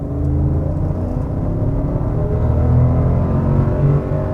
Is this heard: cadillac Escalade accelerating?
yes